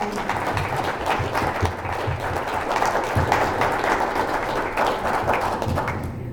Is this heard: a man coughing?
no